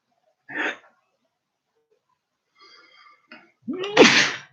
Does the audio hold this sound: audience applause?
no